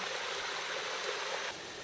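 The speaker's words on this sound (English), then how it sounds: "A little bit of waterfall." A small waterfall feeds a woodland stream along a hiking trail, giving a steady bright rushing hiss of flowing water, close and continuous, easing slightly near the end.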